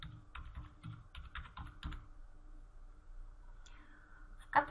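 Keys on a computer keyboard are tapped in short quick bursts while an invoice number is entered into accounting software, soft close clicks in a quiet room followed by a brief louder click at the end.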